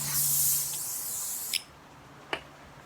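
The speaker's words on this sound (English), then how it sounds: "Kind of want to clean off that edge around my ag sprayer." A handheld agricultural sprayer hisses out a broad, steady mist for about a second and a half, used to clean an edge, then stops, leaving two short faint ticks in a quiet room.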